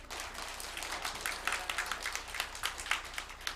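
A church congregation applauds the choir after a bow, with quiet, scattered clapping of uneven density at a distance, under faint background murmur.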